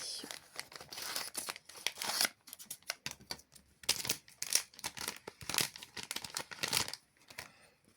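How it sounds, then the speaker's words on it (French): Scissors snip repeatedly through crinkly plastic packaging up close, with irregular cuts and rustling between them. "Les ciseaux, notre ami."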